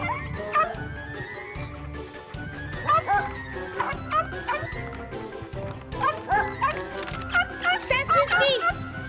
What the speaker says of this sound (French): Quand on est à l'intérieur, on n'aboie pas, ou alors plus doucement